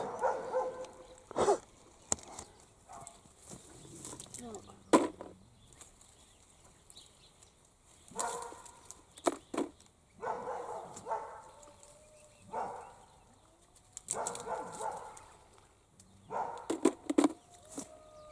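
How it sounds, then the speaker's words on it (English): A dog barks in the distance near carob trees, in several short bursts spread through the stretch, with quiet outdoor background between them. "Listen to that bloody dog."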